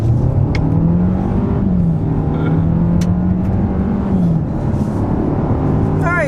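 Car with a 1.6 liter turbocharged four-cylinder engine, Limited trim, accelerating: steady loud engine drone and road noise heard from inside, pitch rising, dipping at a shift, then climbing again.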